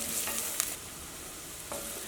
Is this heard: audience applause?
no